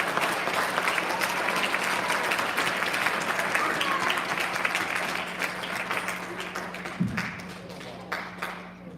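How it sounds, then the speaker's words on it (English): An elementary school ceremony audience applauds a student's STEM recognition with dense, sustained clapping that slowly thins out, a few voices mixed in near the end. "Big round of applause for our STEM recognition."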